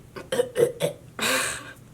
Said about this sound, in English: Ooh, I gotta burp.